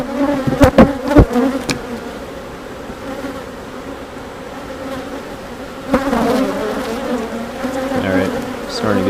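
Honeybees swarm and buzz around an open beehive being inspected, a steady close drone with a few louder passes near the start and a swell toward the end.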